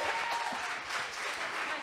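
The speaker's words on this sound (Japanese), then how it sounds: "大きな拍手お願いします" Applause fills a church during an Easter service, given for the pianist: a dense, steady burst of clapping from the congregation, with a brief voice underneath.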